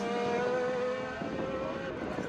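Formula 3 and Radical race cars run single file through a chicane at Kirkistown. Their engines make a steady, loud whine, and the tone drops partway through as one car backs off and another follows.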